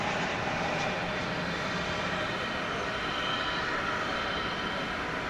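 An American Airlines Boeing 737-800 arriving at DFW from Pittsburgh at night, a distant, even jet rumble with a faint hiss that stays steady throughout.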